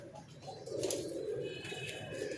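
Teddy pigeons coo softly in a Lahore setup, a low murmuring call rising and lingering over faint background hiss, fairly quiet and close.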